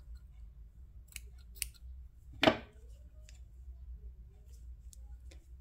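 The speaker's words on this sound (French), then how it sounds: "Je fais toujours un nœud et je coupe." Scissors snip through crochet yarn just after a knot is tied, one crisp cut standing out amid quiet, faint clicks of handling.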